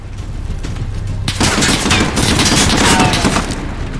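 Dense automatic gunfire from the Call of Duty Modern Warfare campaign rattles loudly and continuously, a rapid machine-gun burst layered with overlapping shots and battle noise.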